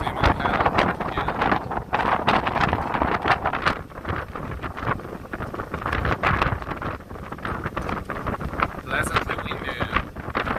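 Gusting wind buffets the microphone on an NYC ferry deck running from Bay Ridge, Brooklyn to Manhattan, with irregular loud rushes and flutters over the hum of the moving boat.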